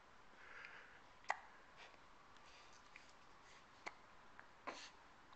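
Faint hiccups from a person, three short sharp catches spaced a second or two apart over a quiet room background, with no talking.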